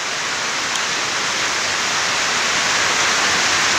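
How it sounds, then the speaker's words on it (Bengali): Heavy rain pours steadily in Hailakandi, Assam, a dense, unbroken hiss that stays loud and even throughout with no voices. "এখন পুরা বৃষ্টির কারণে শব্দ তো শুনতে পারটাই বৃষ্টি দিয়ার পুরা প্রচুর পরিমাণে বৃষ্টি হয়েছে।"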